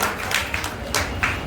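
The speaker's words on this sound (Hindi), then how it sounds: "फिर से ताली बजाइए" Audience hands clapping at a devotional bhajan gathering, a short burst of several soft, scattered claps over about a second and a half, fairly close and modest in volume.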